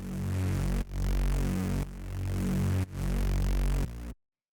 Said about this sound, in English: the next sound that we have here is the bass